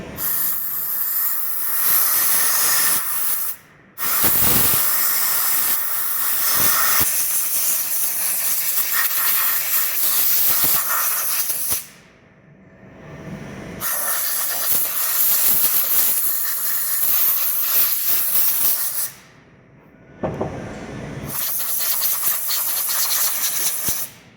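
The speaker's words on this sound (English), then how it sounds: "we're going to blow off with some compressed air all of the brake cleaner and whatever's on there" Compressed air blasts hard onto a Subaru Forester brake caliper during a rebuild, a loud close hiss in long bursts broken by brief silent gaps.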